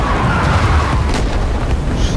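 Heavy booming artillery barrage in a war video game, a dense continuous roar of overlapping explosions filling the whole stretch, loud and close.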